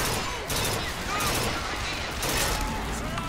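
Rapid gunfire in Bioshock Infinite, a dense continuous burst of shots that fills the whole stretch loudly and up close, with a voice talking faintly underneath.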